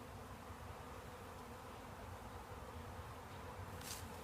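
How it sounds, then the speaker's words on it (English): A newly installed hive of honeybees gives a faint, continuous low buzzing hum heard up close and alone, steady throughout, with a small brief knock at the very end. "We have an installed beehive."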